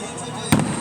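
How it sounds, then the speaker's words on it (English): One firework bursts at a beach show, a single sharp bang with a short crackling tail, heard close over background chatter. "I'm videoing the fireworks right now"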